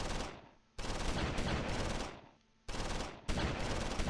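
Rapid bursts of battlefield gunfire in the World War II strategy game Close Combat IV, machine-gun-like volleys in three or four sharp, loud clusters separated by brief fading pauses.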